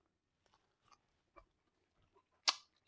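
Someone bites into eggnog French toast dusted with powdered sugar, with faint close chewing sounds followed by one sharper crunchy bite near the end, all quiet and without talk.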